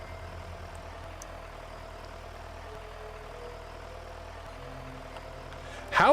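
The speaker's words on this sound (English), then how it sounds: "How is the volume on the tractor for you guys? Is it too loud or is it about right?" A tractor engine in the Stardew Valley video game hums as a steady, low, droning idle that runs continuously, then ends in a brief, sharp burst of sound.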